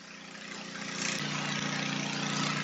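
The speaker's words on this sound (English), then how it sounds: "my neighbor's pressure washing his house, so I ain't got to worry about the pressure washer noise" A neighbor's pressure washer engine runs steadily at a distance, a continuous low motor drone with a faint hum that grows slightly louder partway through, with no talk over it.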